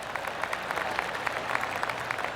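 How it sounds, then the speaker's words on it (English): Scattered light golf claps from a distant crowd around a golf course in PGA Tour 2K25, soft patters rising and falling over a steady outdoor hum. "I can hear the golf claps around the course."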